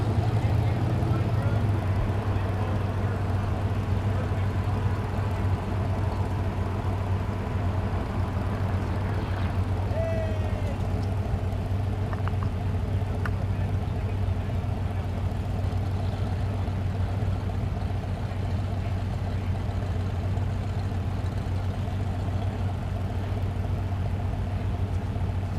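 At a drag race at Thunder Valley in Noble, Oklahoma, a supercharged Volvo wagon with an LSA supercharger and a Camaro give off a continuous low engine rumble and drone, steady and moderately loud, while a voice talks over it throughout.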